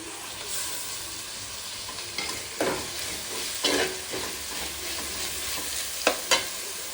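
Two small tomatoes frying in a pan for chicken curry make a continuous close hiss, broken by several spatula scrapes and a couple of sharp pops near the end, with no one talking.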